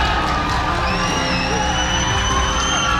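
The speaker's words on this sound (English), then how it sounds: "Crowd coming to life." A boxing crowd roars and whoops after a body shot in the Casimero versus Nghitumbwa fight, a loud, dense, sustained cheer filling the arena.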